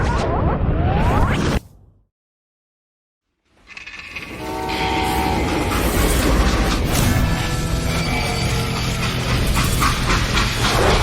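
A loud freight train in the video game Call of Juarez: Gunslinger rumbles and clanks steadily after a brief silence, with a horn-like tone sounding over the rolling noise.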